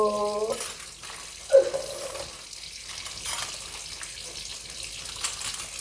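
A kitchen tap runs into the sink during dishwashing, a quiet steady stream with a small clink of a dish partway through, heard close with no voices.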